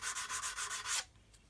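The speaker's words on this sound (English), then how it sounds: "I'm sanding across the sanding marks that I've previously put in there with the 150" Hand sanding with 220 grit sandpaper scrapes back and forth across a surface in about seven quick, rhythmic strokes, close and clear, before stopping abruptly.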